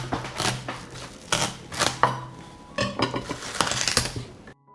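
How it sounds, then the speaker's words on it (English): A knife cuts a fresh watermelon into slices, with clattering knocks of blade and rind on a board, busy and close, in a steady run of sharp hits. "I will cut the watermelon into slices."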